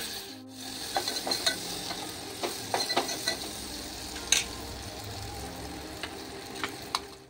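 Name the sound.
onion and turmeric frying in oil, being stirred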